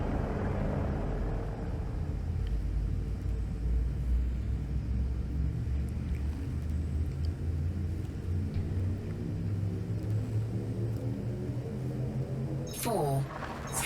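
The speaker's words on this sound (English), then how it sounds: "Frameshift drive charging." A Frameshift drive charges aboard a Planetary Exploration Python ship in Elite Dangerous: a deep, steady engine rumble with rising harmonic tones that climb toward a sharp swell near the end.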